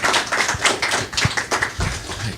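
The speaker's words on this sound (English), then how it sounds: "Let's give him a round of applause." A crowd applauds in a steady wash of clapping, dense and fairly loud, carrying on throughout without pause.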